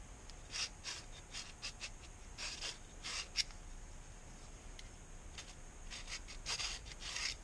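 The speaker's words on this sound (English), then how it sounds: "there's the center line scribed out" A steel scribe scratches a center line across metal stock, a series of short, faint dry rubbing strokes in an uneven rhythm, close up and quiet with no talk.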